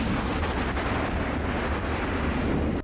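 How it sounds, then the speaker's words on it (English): A loud, sustained blast from a Friday the 13th film scene fills the whole stretch with dense, rumbling roar, heavy low end, with no voices, then cuts off abruptly at the end. "His body explodes."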